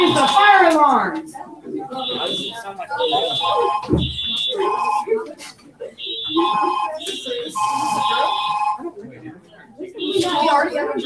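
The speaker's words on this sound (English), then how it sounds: "There is the fire alarm." Repeated electronic fire alarm beeps in short regular bursts during a fire drill, loud and insistent, with people talking over and between them.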